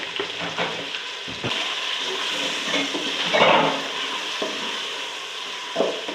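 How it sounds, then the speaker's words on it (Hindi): Tomatoes frying in a pan with salt give a steady, fairly loud sizzle and hiss, with occasional scrapes and clinks of stirring and a brief surge of crackle midway, no talk. "टमाटर को अच्छी तरह भून लूँगी ताकि ये नरम हो जाए"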